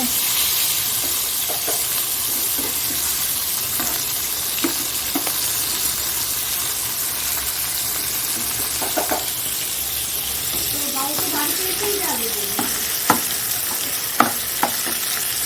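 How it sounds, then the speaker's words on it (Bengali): Fish and cabbage fry in a pan with a steady sizzle, broken by occasional sharp pops and stirring clatter, close up and continuous, with no clear speech over it. "বাঁধাকপিটাও হয়ে এসছে আর মাছটাও ভাজা হয়ে যাচ্ছে"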